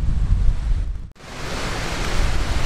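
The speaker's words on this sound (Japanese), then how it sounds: "うわ、すごい風。" Strong wind gusts over a riverside path lined with cherry trees in Bungo-Ono, roaring close against the microphone as a steady broadband rush with a brief lull partway through, no talking.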